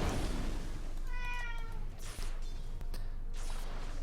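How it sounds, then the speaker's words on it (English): A house cat meows in a short run of clear, drawn-out cries midway, heard close over steady background noise from an esports match broadcast. "Sorry for cat sounds."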